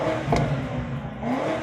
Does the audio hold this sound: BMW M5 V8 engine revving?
yes